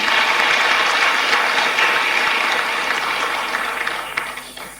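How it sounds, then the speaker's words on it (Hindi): Audience applause at a Bhopal event addressed by Madhya Pradesh chief minister Mohan Yadav, a loud continuous rush of clapping that gradually thins toward the end, with no speech over it. "जोरदार तालियां"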